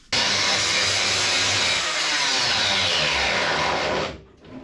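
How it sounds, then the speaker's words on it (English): The edge of a grinding disc grinds back welds on an MGB GT body panel, producing one loud, continuous abrasive whine for about four seconds before it cuts off abruptly. "I use a grinding disc like that there and just use the edge of it."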